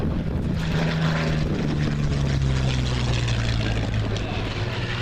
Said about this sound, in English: The beautifully restored and maintained Curtiss P-40 Warhawk of Flying Tigers fame.